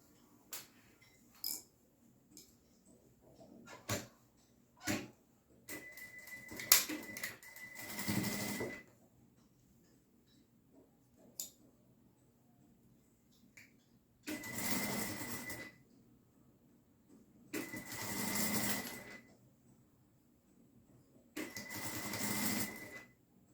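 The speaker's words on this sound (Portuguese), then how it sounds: "Pode ser com pontinhas invisíveis ou pode ser na máquina mesmo, que é mais rápido." A sewing machine stitches the edges of fabric for a zippered pouch. Short rhythmic bursts alternate with quiet handling clicks, followed by three longer, steady stitching runs close by.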